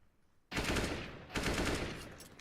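Two loud, close bursts of AK rifle fire in a competitive Counter-Strike match on the Train map, a short rattling volley followed by a second one after a brief gap, with no talking.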